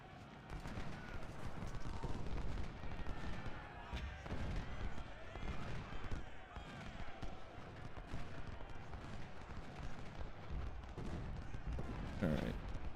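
Battle gunfire in the video game Ultimate General: Civil War crackles as a continuous distant fusillade of musket volleys, a steady rumble with scattered sharper shots and someone talking over it.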